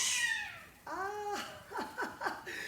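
A cat meows several times in a French radio drama scene aboard a captain's household, with a long drawn-out meow followed by a series of shorter, rising cries, fairly close and clear with no talk over them.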